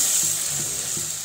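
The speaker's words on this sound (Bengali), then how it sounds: "এখানে আমি কাচকি মাছটা একটু ভেজে নিচ্ছি" Small kachki fish frying in a pan, a continuous bright sizzle of hot oil with a few soft stirring scrapes and clinks underneath, close and steady.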